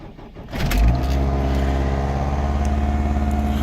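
A 2007 Ford Focus engine catches on a cold start and settles into a steady, close idle with a low, even hum and no voices.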